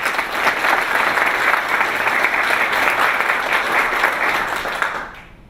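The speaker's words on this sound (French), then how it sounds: "Je vous prie de les applaudir" An audience at a graduation ceremony for an Executive Master's in Education Sciences gives sustained, dense applause for the teachers, steady and loud for about five seconds before quickly dying away.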